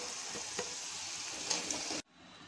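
Potato wedges fry in hot oil in a pan with a steady, bright sizzle and a few soft stirring pops, then the sound drops away abruptly to a faint hiss.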